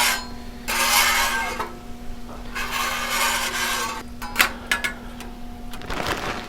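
A metal scraper pushes bacon grease across a Blackstone flat-top griddle in two long, harsh rasping strokes, followed by lighter scrapes and taps, up close over a low steady hum.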